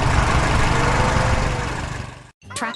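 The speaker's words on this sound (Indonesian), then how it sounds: "Traktor biru sedang bekerja di tengah ladang hijau." A blue tractor engine runs steadily in a green field, a loud, rough continuous drone that cuts off abruptly near the end.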